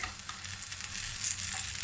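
Steady, quiet sizzling and crackling of zucchini fritters frying in a pan of hot oil, heard close with no voices.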